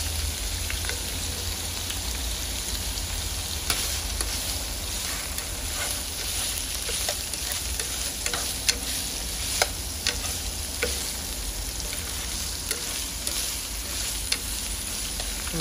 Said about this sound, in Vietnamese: Trộn về trộn lại cho cái đậu hũ nó chín đó các bạn.